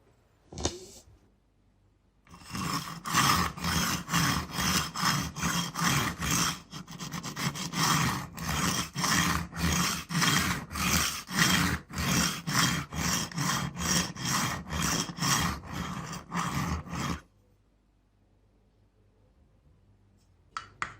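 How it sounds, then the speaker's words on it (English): A knife blade drawn repeatedly through a sharpening stone gives a steady run of close, loud rasping strokes in quick rhythm, lasting about fifteen seconds with short pauses before and after. "So I'm going to put this in the sharpening stone and just run that through a few times"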